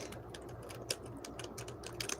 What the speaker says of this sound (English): I'm typing that in there